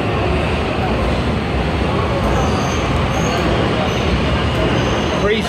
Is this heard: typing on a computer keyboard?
no